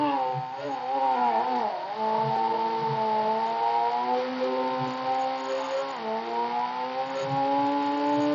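A loud motorbike engine in the Indian Bikes 3D video game revs steadily, its droning tone sliding up and down in pitch with throttle changes and running continuously without a break.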